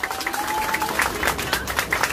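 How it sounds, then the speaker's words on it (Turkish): A crowd applauds with scattered, uneven clapping and some voices mixed in, moderately loud and close. "kocaman bir alkış istiyorum ben"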